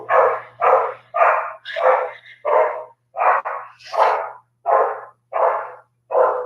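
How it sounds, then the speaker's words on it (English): An Australian Shepherd named Dixie barks loudly and repeatedly at the doorbell, about ten heavy, evenly spaced barks close by, alone with no talking. "our little girl Dixie, Australian Shepherd, is the loudest dog on earth"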